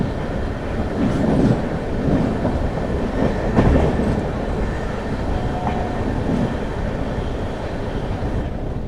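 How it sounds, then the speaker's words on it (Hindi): The Jhelum Express from Jammu Tawi to Pune passes behind a WP7 locomotive, giving a continuous rumble of rolling coaches with rhythmic wheel clatter, fairly close and steady throughout. "WP7 के साथ आ रही है झेलम एक्सप्रेस जम्मू तवी पुणे।"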